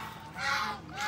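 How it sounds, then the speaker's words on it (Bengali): Geese honk at a resort, with one loud, brassy honk followed by a shorter second call, close by and without talk. "রাজহাঁস খুব ডেঞ্জারাস"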